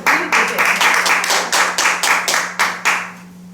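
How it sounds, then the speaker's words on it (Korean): An audience claps in rhythmic unison, about a dozen loud, evenly spaced beats close by, fading out at the end over a low steady hum. "저희들의 박수."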